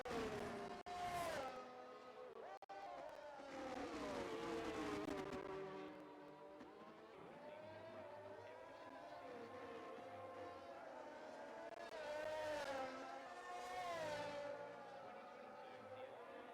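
Formula 1 cars lapping during a qualifying session of the F1 23 video game in Portugal, with faint engine whines that rise and fall as they shift through gears, heard quietly beneath a commentator talking.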